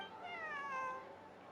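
A cat meows in the video game Genshin Impact, one drawn-out, wavering cry with a clear rising-then-falling pitch, close and fairly soft, with no talking over it.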